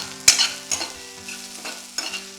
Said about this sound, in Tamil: கருவேப்பிலை இது எல்லாமே நல்லா வதங்கிருச்சு.